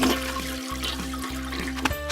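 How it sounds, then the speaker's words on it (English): Toilet flush played as a sound effect in a Play-Doh PJ Masks toy story, a steady rushing swirl of water with brief dips, close and continuous over a low tonal hum. "So George gave the toilet a big flush."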